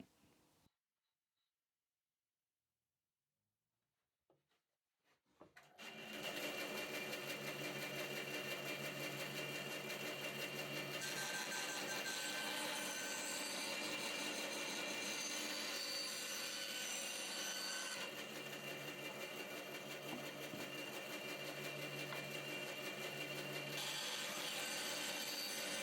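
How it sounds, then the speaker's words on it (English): A bandsaw cuts plywood into push blocks, a loud, steady sawing roar running continuously for about twenty seconds after a few seconds of silence and faint handling knocks. "We're on the bandsaw now to cut this lot out."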